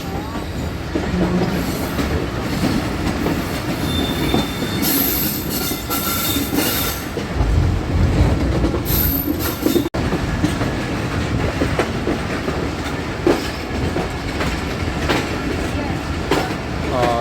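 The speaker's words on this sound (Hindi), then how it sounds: "हमारी ट्रेन अब अप्रोच कर रही है रावलपिंडी रेलवे स्टेशन पर" The Rehman Baba Express nears Rawalpindi railway station on a curve, with a steady loud rumble of carriages, clattering wheels and bursts of high squealing from the rails, continuous throughout.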